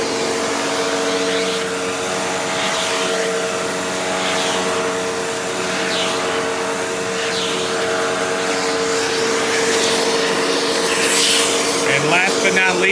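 A Hoover Windtunnel Bagless Twin Chamber U5752-900 upright vacuum runs with its upholstery tool attached, making a loud, steady airflow drone with a faint tonal hum that holds evenly across the whole stretch.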